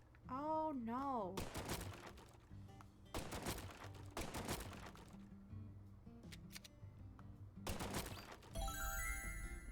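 Shots fired at boxes in Deadly Premonition 2 come as a handful of sharp, separate gunshot bursts spaced a second or more apart, set against quieter game ambience and a short electronic tone.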